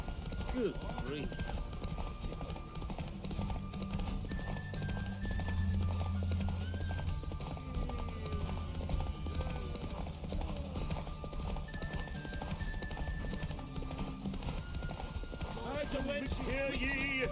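Roach the horse galloping in The Witcher 3, a steady rapid clip-clop of hooves throughout with an occasional whinny, under game music and a voice talking.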